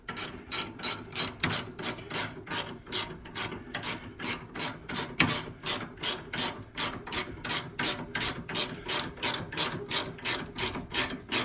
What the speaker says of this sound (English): a speed wrench.